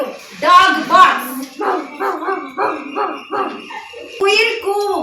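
A human voice imitates a dog barking, giving a rapid run of short, loud, rhythmic woofs close up, with brief speech before and after.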